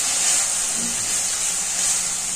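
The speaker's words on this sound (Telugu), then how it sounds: "మనం సన్న మంట మీద పెట్టుకున్నామంటే ఆవిరి పడి మెత్తగా అవుతుంది" Ridge gourd curry cooked without water on a low flame gives off a steady, even steam hiss that holds throughout with only faint low rumbles beneath.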